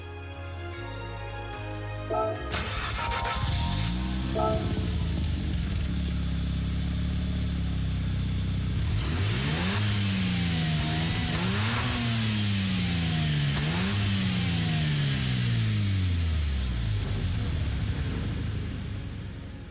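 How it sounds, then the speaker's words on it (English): A video-game Daihatsu Copen 2002 fitted with an RX-7 rotary engine revs repeatedly, with several rising and falling sweeps that build into a loud, continuous whine, briefly preceded by game music. "I'm doing the Daihatsu Copen 2002 if it had the RX-7 motor."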